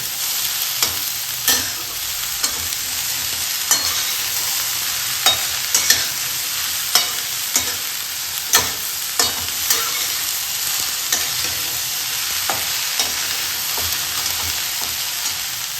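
Okra bhaji stirred and cooked in a pan: a constant close sizzle punctuated by a dozen or so sharp spatula knocks and scrapes at irregular intervals, with no voices.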